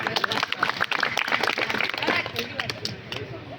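An audience at a Hindi poetry gathering breaks into brisk, dense clapping that fills the room, with faint voices mixed in underneath.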